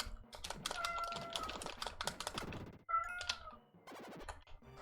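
A cat meows several times, fairly close, over a busy patter of computer keyboard typing.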